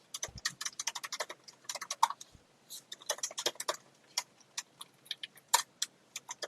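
Quick clattering keystrokes on a computer keyboard while entering text in a desktop app, coming in rapid irregular bursts with short pauses, close and quiet in an otherwise silent room.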